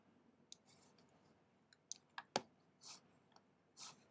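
A computer mouse clicks in a Mac lab while a folder is dragged. A handful of sharp, close clicks come at uneven intervals over near-silence.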